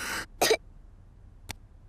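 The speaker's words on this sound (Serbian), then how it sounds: "a onda kašlji." A young cartoon pig in Peppa Pig coughs while his lungs are checked during a game of doctors: two or three short, sharp bursts, the loudest in the middle, then a faint final puff, alone with no talk.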